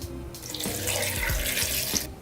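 A tap runs steadily into a sink, a close, even stream of water lasting a couple of seconds with a low gurgle underneath and no talking.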